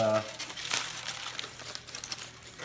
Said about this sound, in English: after we unwrap it, make sure you get no tin foil on it